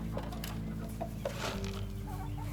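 Chickens cluck in a few short, scattered bursts over a constant low background hum, fairly close, with no talking.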